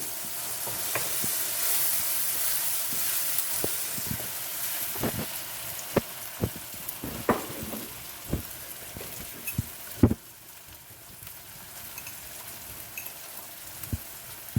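Peppers frying in a pan for spaghetti in tomato sauce, a steady close sizzle throughout with occasional sharper pops and crackles, no talking.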